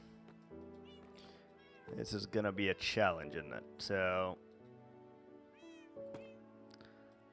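Cats meow in the Minecraft video game, a cluster of several quick, clear mews in a row, with someone talking over and around them.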